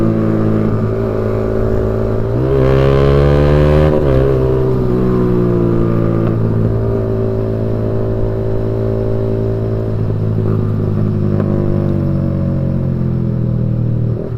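A motorcycle exhaust, likely modified, revs loudly and close during a group night ride, swelling into a rising rev around the third second and then settling into a steady, heavy droning rumble.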